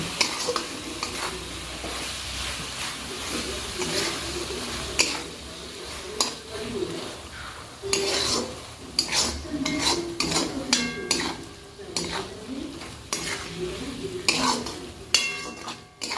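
Spring onion greens with crushed peanuts are sautéed in a pan, with a close steady sizzle and busy clattering scrapes and taps of a spatula against the pan, and a voice faintly present at times.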